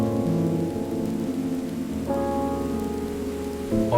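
Steady rain pours down in an even, continuous hiss as a story sound effect, with a soft low musical drone sustained beneath it throughout.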